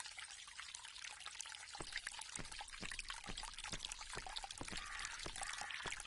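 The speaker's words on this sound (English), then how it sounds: "You hear that water?" Steady outdoor water pours and trickles in a continuous splashing stream, with irregular drips and splashes punctuating the flow at a moderate, even level throughout.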